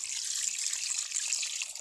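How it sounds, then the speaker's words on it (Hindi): Water poured into a pot of mutton paya makes a steady, close splashing hiss that runs unbroken throughout, with no talking over it. "अब हम इसमें ये पानी ऐड कर देंगे।"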